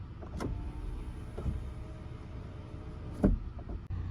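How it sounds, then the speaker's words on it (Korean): An electric motor drives a car's rear seat curtain with a faint, steady whir, broken by a few sharp clicks and knocks, with no talk. "뒷좌석 전동 커튼"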